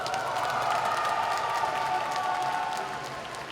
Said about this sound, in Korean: 뜨겁게 박수와 함성 보내주십시오.